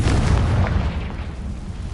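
A Confringo spell explodes in the PS5 game Hogwarts Legacy, a loud rumbling boom that rolls on and slowly fades over two seconds, with no one talking.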